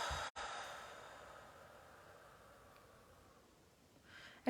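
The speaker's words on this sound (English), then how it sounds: "And then as you exhale" A slow, soft exhale during a calming breathing exercise for anxiety, one long faint breath trailing off in near silence, with a small catch of breath toward the end.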